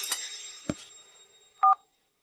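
A telephone number is dialed. A few soft clicks and a handling thump are followed by one short, clear keypad tone, then silence.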